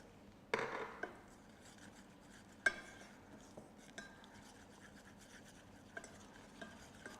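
Flour being stirred into melted fat with a pinch of black pepper to make a roux, heard as soft scraping and tapping of a utensil against the pan, with a few sharper knocks between quiet stirring strokes and no talking.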